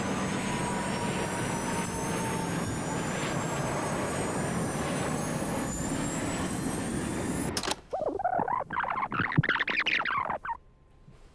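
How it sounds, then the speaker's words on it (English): Airbus A320 jet engines spooling up in the final seconds before a crash, a loud whining roar with rising tones that cuts to a harsher, broken burst of noise, then fades. "Video of the crash picked up the distinctive sound of the A320's engines accelerating."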